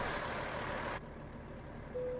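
Brakes on a truck in American Truck Simulator give one sharp, loud hiss of released air that cuts off abruptly, followed by a quieter idling hum and a short tone at the end.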